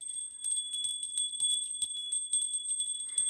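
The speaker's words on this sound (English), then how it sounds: "Where's the bell?" A small handheld bell is rung repeatedly in a rapid shimmering series of bright high tones, close and fairly loud, with no talking.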